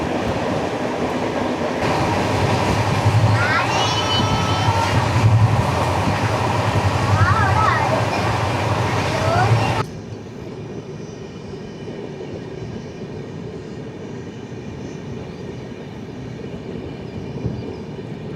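Indian Railways train 11013 rolling slowly under a speed restriction, a steady loud rumble of wheels and carriages that drops to a quieter, smoother run partway through, with faint voices underneath.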